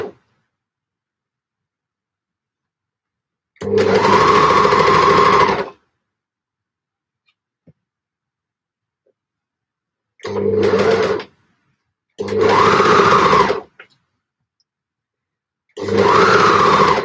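Sewing machine stitching a gable top in loud, steady bursts of a few seconds each, a close mechanical whir separated by stretches of silence.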